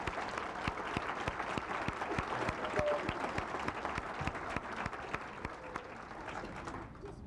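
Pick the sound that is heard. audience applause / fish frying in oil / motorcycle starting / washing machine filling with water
audience applause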